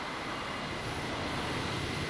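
A MiG-31 Foxhound jet interceptor gives a steady, loud broadband roar of engine noise that holds constant, with no talking.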